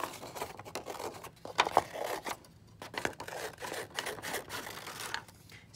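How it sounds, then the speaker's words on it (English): Scissors cut along a drawn line in paper for a winter landscape craft, a steady close rasping snip and rustle lasting several seconds with no voices. "So I'm going to use my scissors. I'm going to cut out along that line."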